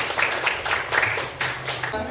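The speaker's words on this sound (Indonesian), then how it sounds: "Berikan tepuk tangan untuk Sabika dan kelompoknya" A classroom group claps for a student and her team, a quick burst of moderately loud applause with voices mixed in.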